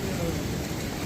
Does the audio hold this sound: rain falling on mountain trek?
yes